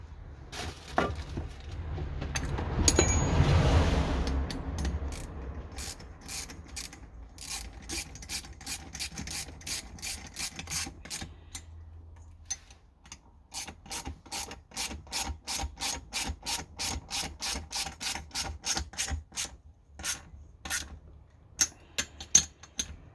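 A cheap ratchet wrench tightens bolts on a 50cc Booster/Rocket/Stunt moped engine block, giving long runs of rapid clicking pawl ticks, faint at first and then a fuller scraping rustle, all close and without speech.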